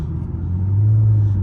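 A car engine and exhaust fitted with a new resonator give a steady, deep, close rumble with a low droning hum that swells slightly partway through, and no talking.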